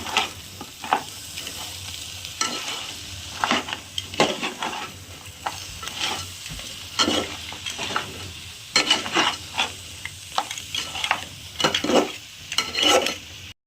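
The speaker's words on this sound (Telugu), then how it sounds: "కొంచెం కొత్తిమీర, బాగా ఫ్రై చేయండి." Crab pieces with coriander fry in a pan, a steady sizzle running underneath while a utensil scrapes and stirs in irregular bursts, fairly close and with no voices.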